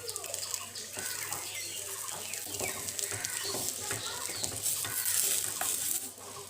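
Aloo paratha frying in ghee in a pan gives a steady, soft sizzle, faint and continuous throughout, with a few light scraping sounds.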